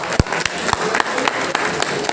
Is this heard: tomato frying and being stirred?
no